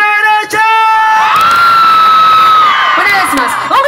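Concert crowd in Atuntaqui, Ecuador, the right side of the audience letting out a loud, sustained collective shout with high whoops, following a brief amplified voice at the start.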